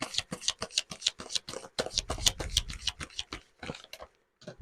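Tarot cards being shuffled by hand, a close series of quick crisp riffling snaps and taps in an irregular rhythm, heard alone without talk.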